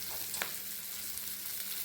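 Soft, steady sizzling of roasted gram being lightly sautéed in a pan for chutney, with a couple of light scraping stirs.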